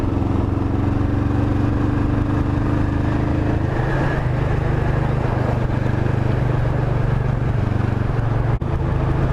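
A Kawasaki Vulcan 500 motorcycle is ridden with a steady, close engine drone that shifts pitch as it changes gear around the middle, followed by one sharp knock near the end.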